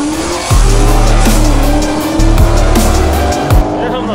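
A red BMW drifting at an illegal car meet in Astana, with loud, close engine roar and long tire squeals rising and falling in several sweeps.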